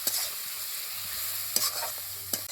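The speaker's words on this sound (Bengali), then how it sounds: "এবার সব কিছুকে বেশ খানিকক্ষণ টাইম দিয়ে খুব ভালোভাবে কষাবো।" Spice paste with turmeric sautéing in oil for a pointed gourd (potol dorma) curry, a steady broadband sizzle with a few sharp scraping stirs of the spoon, close and continuous with no talking.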